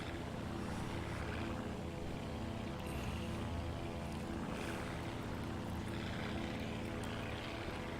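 A steady droning propeller airplane engine in a flight simulator on a flight from Minot to Devils Lake, North Dakota, an even continuous hum with no breaks.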